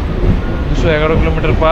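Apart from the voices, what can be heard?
Howrah–Purulia MEMU local train running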